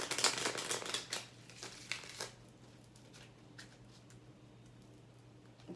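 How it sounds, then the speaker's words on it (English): An oracle card deck being shuffled, with a burst of close papery riffling and crinkling in the first couple of seconds that gives way to quieter, sparse card sounds over a steady low hum. "They said go ahead and shuffle that deck real quick."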